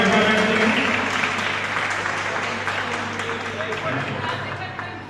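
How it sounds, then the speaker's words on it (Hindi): An audience at a Teacher's Day celebration applauds loudly, a dense burst of clapping that starts strong and slowly tapers off over several seconds. "और जोरदार ताली हो जाए"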